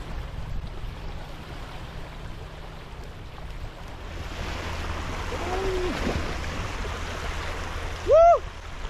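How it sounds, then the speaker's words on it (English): Frigid Arctic Ocean water washes steadily along a remote shoreline in a continuous low rush, with a brief loud whoop near the end. "I want to introduce you to the frigid waters of the Arctic Ocean."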